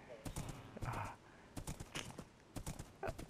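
A horse's hooves clip-clop in Minecraft on PS4 in quick irregular steps, mixed in with a person talking over the gameplay.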